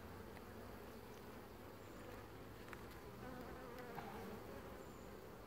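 Honey bees buzzing steadily at a hive during a summer inspection, a dense, continuous drone of many insects close by, fairly quiet and without speech.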